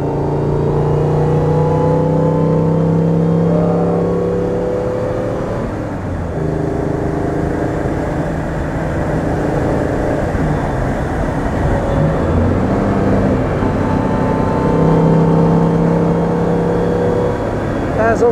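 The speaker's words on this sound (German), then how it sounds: "Ja, so klingt ein reinrassiger Sportwagen." A 1954 Mercedes 300 SL Gullwing with its fuel-injected engine revving, loud and close, the pitch climbing and falling through repeated blips over an eighteen-second stretch, with a voice speaking briefly over it.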